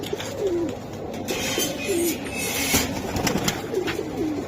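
Giribaj pigeons at a market give several soft, repeated coos at moderate distance, with faint background noise between calls.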